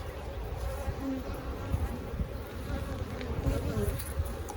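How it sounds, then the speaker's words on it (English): Dense, steady buzzing of many bees inside an open beehive during a hive inspection, a continuous close hum with no talking. "Lots of little bees."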